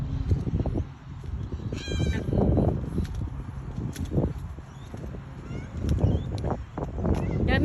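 Birds calling outdoors in an afternoon setting with freshly mown grass nearby, brief chirps and calls among rustling and handling noise while people talk close by.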